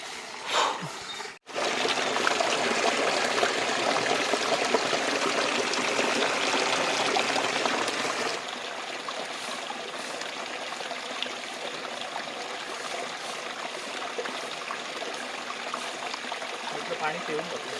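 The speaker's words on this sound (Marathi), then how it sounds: "एक 12 मैल पाण्याचा झरा आहे" Water from a spring in Ratnagiri, Konkan, flows in a steady close rush that softens partway through into a quieter, continuous trickle.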